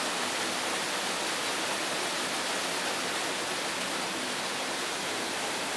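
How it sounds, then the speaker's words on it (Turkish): A waterfall roars in Beldibi canyon, a dense, steady hiss of rushing water that stays loud and unbroken throughout with no voices. "bu şelale nasıl daha büyük bir güçle haykırıyor"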